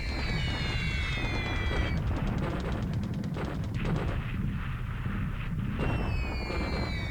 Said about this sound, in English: We've already got 3 submarines hit by 800 kilogram bombs